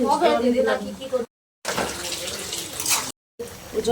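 Water runs from a tap into a sink in bursts of broad hiss, with a voice talking over the start and end and short silent gaps between.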